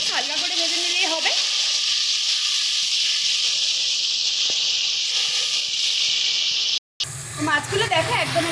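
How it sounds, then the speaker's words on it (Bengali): Shrimp fry lightly in hot oil with salt in a kadai, giving a loud, continuous sizzling hiss that drops out briefly and returns with some stirring clatter. "দিয়ে মাছটাকে হালকা একটু ভেজে নেব।"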